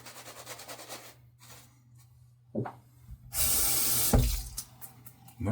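Water runs from a tap during a wet shave, with short bursts of flow and a louder steady stream starting partway through. The sound is faint and close, and no one speaks.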